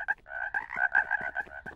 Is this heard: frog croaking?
yes